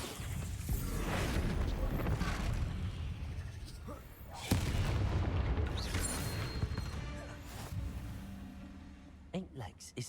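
Bombarda blasting spell bursts in the Hogwarts Legacy video game, heavy booming impacts thudding repeatedly over a dense battle din, with a sharper blast midway and scattered crashes near the end.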